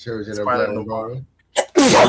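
Someone speaking about a TV show breaks off, and after a brief pause a person gives one sharp, close sneeze with a quick intake before it.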